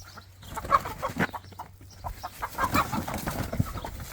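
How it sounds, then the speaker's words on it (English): A loose chicken clucks on a homestead in Tasman, New Zealand, a string of short, choppy clucks and squawks close by, steady over a few seconds with no talking. "Oh, I got a bloody chicken out."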